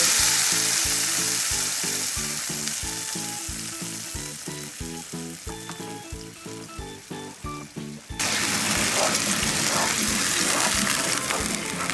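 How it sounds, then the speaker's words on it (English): Curry paste hits hot oil for a vegan Thai curry, giving a loud, close, continuous sizzle and crackle with rhythmic stirring knocks, then a sudden louder rush of frying that fills the pan. "The oil's hot now and we need to add our curry paste."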